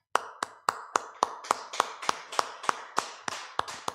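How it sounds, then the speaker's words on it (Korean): A church congregation at a Sunday worship service clapping in steady unison, about thirteen sharp, evenly spaced claps that are close and clear against a quiet background. "박수를 드리겠습니다."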